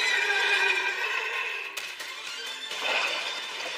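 A horse whinnies loudly and shrilly after being set on fire in an anime episode, one long neigh that wavers and fades, then a second burst of neighing.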